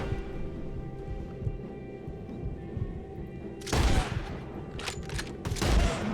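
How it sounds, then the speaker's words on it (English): Gunfire from the video game Red Dead Redemption 2: a sudden loud burst of overlapping shots erupts after a stretch of quieter game ambience, with a second burst near the end. "Who else is shooting?"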